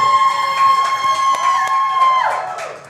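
A crowd cheers and shouts at a high school Rocket League invitational, loud and continuous with a sustained whistle-like tone riding over the noise before it fades slightly near the end.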